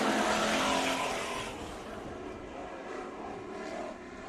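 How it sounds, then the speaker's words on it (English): Race cars at Bakersfield Speedway roar as the heat race field takes the green flag, a loud, dense engine wash that swells at first and then settles into a steady, slightly fading drone with no talk over it. "Kagan and Trenton bring the field to green"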